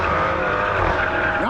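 A Dodge Hellcat's tires squeal as the car skids and revs hard nearby, a loud, continuous screech over a roaring engine that fills the moment.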